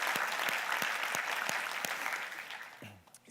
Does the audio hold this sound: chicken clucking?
no